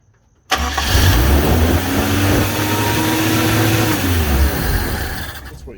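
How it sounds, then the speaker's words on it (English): A Toyota KE10 Corolla engine cranks and fires up at about half a second, then runs steadily at a raised, fast idle near 2000 RPM, loud and close, easing slightly toward the end. "so we got the engine to run at the correct RPM and fire up to life"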